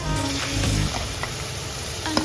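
Chopped garlic and ginger sizzle in hot oil in a wok, a loud crackling fry at first that settles into a steady hiss, with a small clink near the end.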